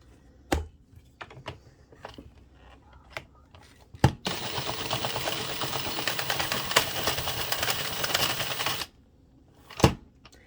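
An Addi knitting machine cranked with no yarn in the feeder, used while knitting a checked-stripe baby blanket, rattles in a steady mechanical clatter for several seconds, framed by scattered clicks and knocks before and after.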